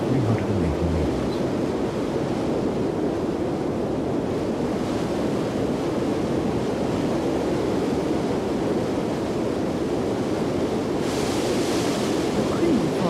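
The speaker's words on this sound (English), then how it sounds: "The Krimler Falls are considered to be the most beautiful waterfalls of the Alpine range" Krimml Falls in the Austrian Alps, a series of three cascades dropping 380 meters, makes a continuous broadband roar of rushing water, steady and loud throughout, with some wind buffeting and faint voices underneath.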